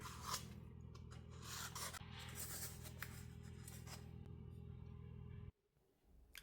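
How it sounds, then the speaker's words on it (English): A scalpel cuts strips of cardboard for a pumpkin craft, giving a steady close scraping and rubbing drag that runs continuously for several seconds before stopping abruptly into near silence. "I'm using a scalpel just to cut it evenly"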